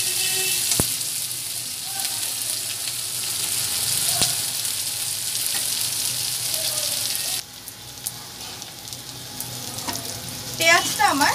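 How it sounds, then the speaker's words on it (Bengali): Thinly sliced onions and green chillies sizzle in hot oil in a pan for an egg curry, a loud, steady frying hiss close by with occasional stirring scrapes, easing briefly before picking up again. "এবার এটাকে আমি ভেজে নেব।"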